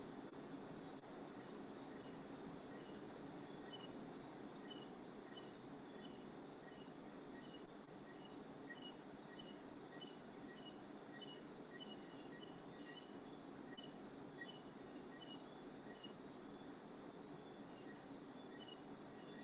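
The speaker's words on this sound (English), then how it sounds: "guys hear the crickets outside?" Crickets chirp steadily outdoors at night, a dense, continuous high trilling with regular pulses that holds at an even level throughout, over a low, steady background rumble and with no talking.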